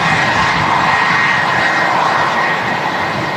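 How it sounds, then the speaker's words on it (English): An Emirates passenger aircraft, the biggest passenger aircraft in the world, touches down on runway 23 right at a windy Manchester Airport, its engines producing a loud, steady roar with a faint whine that holds for several seconds. "Touching down here on 23 right at Manchester, the biggest passenger aircraft in the world."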